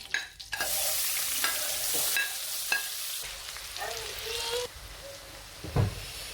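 Onion hits hot oil and sizzles loudly in a pan while being stirred, with scraping strokes and clatter of the utensil over a continuous close frying hiss, a few faint words nearby.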